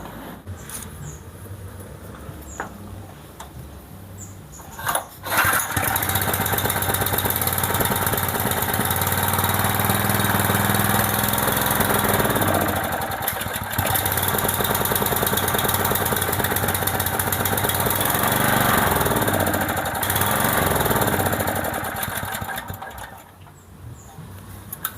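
A small GX stationary engine converted to run on LPG, due for a carburetor change, is quiet at first, then starts at about five seconds and runs at a loud, steady, rattly idle before fading out near the end as it runs low on fuel.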